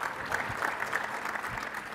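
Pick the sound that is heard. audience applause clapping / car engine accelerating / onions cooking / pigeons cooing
audience applause clapping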